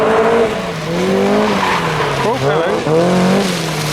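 E36 and MX-5 cars drifting in a queue at a tuner drift meet, engines revving hard in rising and falling sweeps with tyre squeal, loud and close, while a person briefly speaks.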